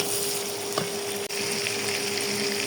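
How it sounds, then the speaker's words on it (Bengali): Onion frying in a pan, a dense, loud, continuous sizzle heard up close with a faint steady hum beneath it and one brief dip near the middle, no speech. "দেখেন পেঁয়াজটা একটু ভেজে নেবো কি যাতে কাঁচা গন্ধ না থাকে"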